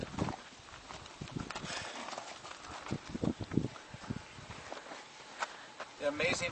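A horse's hooves step and shuffle as it turns around during chiropractic work, soft irregular thuds and clops nearby, mixed with someone talking.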